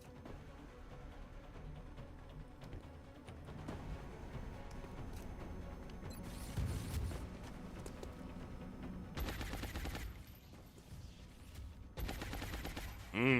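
Gunfire in the turn-based strategy game XCOM Long War on Impossible Ironman difficulty, with dense, busy combat sound effects and bursts of shots layered over game audio through most of the stretch.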